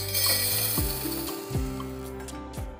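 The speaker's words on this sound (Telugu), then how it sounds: "మనం ముందుగా తీసుకున్న మసాలా దినుసులన్నిటిని దోరగా వేయించి పక్కకు తీసుకోవాలి" Whole spices roast in a pan for chicken pickle, giving a steady low sizzle with light scraping and occasional stirring clicks, close and unbroken by talk.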